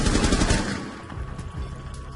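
Rapid gunfire from the video game Rainbow Six Siege crackles in a short burst of shots that quickly fades into a quieter, rattling tail.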